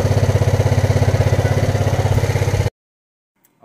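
A Yamaha Mio scooter engine idles close by with a rapid, even chugging pulse, loud and steady, then cuts off abruptly into silence before a faint rustle at the end.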